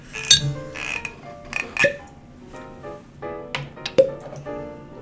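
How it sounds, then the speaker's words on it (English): Small splashes of water go into glasses of Lagavulin 16 and Laphroaig Select whisky: a handful of separate, close, quiet drips and plinks spread over a few seconds, with near-silence between them. "for the sake of science, we will now add a touch of water"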